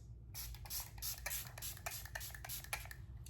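A fine mist spray bottle hisses in a quick series of short bursts, close and fairly quiet, with no talking.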